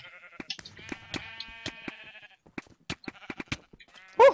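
Sheep in a Minecraft arcade minigame bleat in a string of sharp, repeated calls amid clicking combat sounds, ending with a louder burst.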